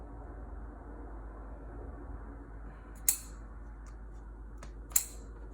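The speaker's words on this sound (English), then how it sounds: "So I'm going to first cut this pot" A plastic hydraulic plant pot is cut during bonsai work, heard as two sharp, brief snips a couple of seconds apart over a faint, steady background hum.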